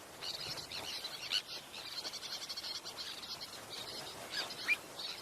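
Sandwich terns and a pied avocet in a packed mixed nesting colony, giving faint, distant, repeated chirping calls in a continuous chatter with a few sharper notes.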